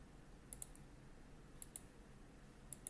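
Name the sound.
mouse clicking in 3D modeling software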